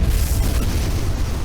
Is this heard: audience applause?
no